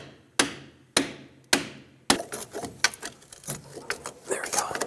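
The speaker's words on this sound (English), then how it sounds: "I'm gonna take a pry bar and a hammer and basically try to pry or hammer the strut back" Sharp metallic hammer strikes on the strut of a 1997-2003 Lexus ES300, a few spaced blows followed by a quicker flurry of hits, close and ringing.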